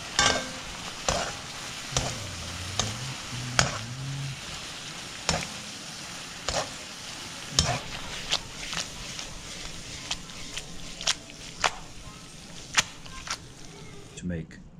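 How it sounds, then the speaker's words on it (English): Pasta stirred into melted butter and cheese sauce, with sharp utensil clicks against the pan at an irregular pace over a soft background, and a brief faint voice early on. "just melt the butter, add some cheese, mix it in"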